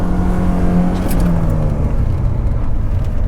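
Volvo 740 engine revving hard and steady while drifting on snow, a loud continuous drone with a droning low tone held throughout, close and unbroken.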